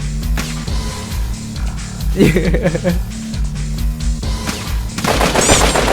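Rapid machine-gun bursts crackle in the video game MadOut2, fired in several clustered volleys across the clip while a player's excited voice talks over the gunfire.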